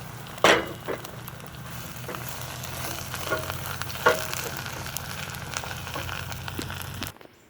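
Chaya leaves with garlic sizzle and crackle in a pan over a biogas flame, a steady frying hiss punctuated by a few sharper pops and stirring knocks before cutting off abruptly.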